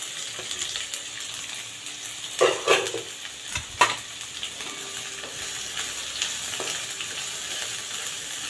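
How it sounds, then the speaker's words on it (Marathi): Thinly sliced onions fry in oil in a pan for misal, giving a steady sizzle with occasional stirring clatter and scrapes, close and fairly loud throughout. "कांदाही आपल्याला तांबूस रंग येईपर्यंत छान तेलावरती भाजून घ्यायचा आहे"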